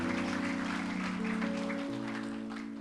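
Christmas worship congregation at FLTF Church clapping together, a steady crackle of hands under sustained organ or keyboard chords and a low musical drone, continuing evenly for a few seconds before easing slightly at the end.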